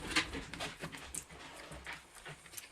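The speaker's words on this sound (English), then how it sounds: "Sorry about the noise. The dog keep running up" A dog runs in and out of a craft room, its panting, claw clicks and soft whimpers coming in quick irregular bursts, faint and close amid rustling room noise.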